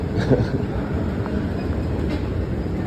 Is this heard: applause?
no